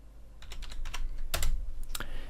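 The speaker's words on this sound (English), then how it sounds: "I'm going to type in minion." Fingers tap out a short burst of keystrokes on a computer keyboard, a quick irregular run of close clicks over a low steady hum, with no talking.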